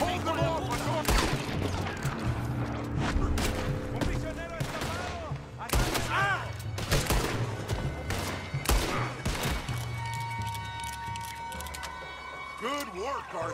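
Repeated gunfire bursts and rapid shots in the video game Red Dead Redemption 2, cracking sharply over a backdrop of game effects and music, with characters talking between volleys.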